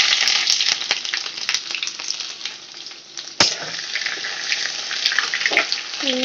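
Grated ginger fries in hot oil for chowmein, a loud continuous close-up sizzle with light clinks and one sharp utensil knock partway through, and no one speaking.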